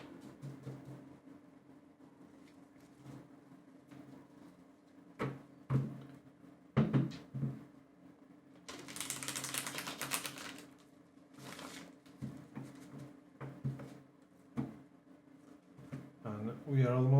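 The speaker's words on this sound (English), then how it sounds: "I'm just finishing some mixing here, some shuffling" Tarot cards are shuffled by hand, giving a brief crisp riffling flurry and scattered taps and slaps between quieter stretches while a person talks.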